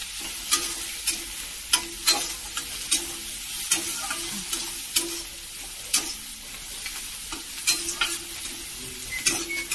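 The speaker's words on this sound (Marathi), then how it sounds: "आता चांगला मस्त पैकी कांदा तळून घेते बघा मी" Steady sizzling of onions frying in an iron wok, with frequent sharp scrapes and clinks of a spatula stirring against the metal throughout.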